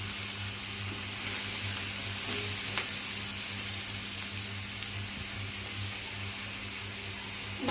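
Onions frying in hot oil for a mutton gravy, a steady soft sizzle with a low electrical hum beneath, continuous and even throughout, no voices.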